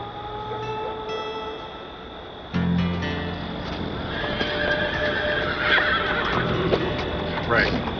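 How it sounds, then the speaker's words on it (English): Wild horses whinny and neigh loudly several times over steady clip-clopping hooves, with voices talking now and then in the background. "Those are wild horses."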